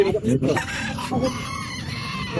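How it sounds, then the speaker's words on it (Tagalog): Small chickens clucking and calling at an outdoor pet market in Calumpit, with several birds sounding close by in irregular bursts against a busy market background. "Maliliit na manok oh."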